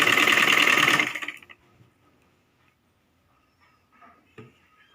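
An electric sewing machine stitches lehenga fabric, giving one loud, fast whirring burst for about a second before it stops and only faint handling noises remain.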